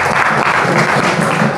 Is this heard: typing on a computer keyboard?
no